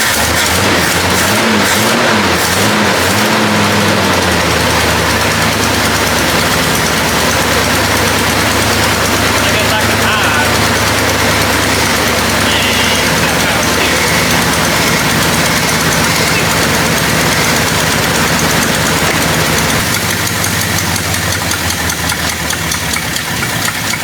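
An old Jeep engine, left sitting for 25 years, rumbles loudly close by, idling roughly with an uneven knock and revving up and down, steady throughout with no talking.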